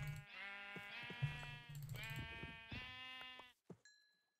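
Several sheep bleat in Minecraft, loud and close, with harmonic calls repeating over about three and a half seconds before cutting off into a few faint game tones.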